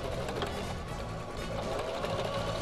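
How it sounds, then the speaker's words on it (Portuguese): A Singer sewing machine runs steadily, stitching a kitchen dish towel with a continuous close, even mechanical whir and no pauses. "E venho costurando."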